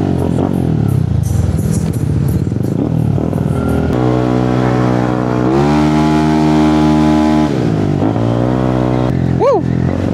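A Yamaha Aerox 232cc scooter with a rebuilt exhaust pipe revs hard near the mic, its engine note climbing, holding and dropping in loud repeated pulls with a short rising blip at the end.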